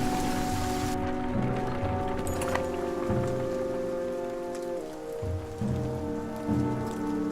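Heavy rain pours steadily in the video game The Banner Saga 2, a dense, constant hiss of drops on the ground with low droning tones and occasional soft thuds beneath, continuous and loud throughout.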